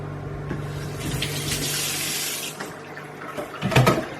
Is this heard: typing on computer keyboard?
no